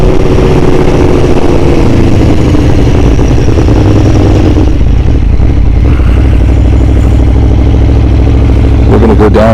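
An Aprilia Tuono motorcycle engine drones loud and close on an open road, holding a steady mid-pitched roar with wind rush and slight shifts in revs throughout.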